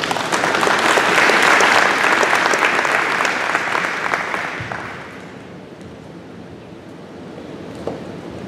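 An auditorium audience at a high school community meet-and-greet with the police chief gives a loud, dense round of applause that fades out after about five seconds into quiet room noise.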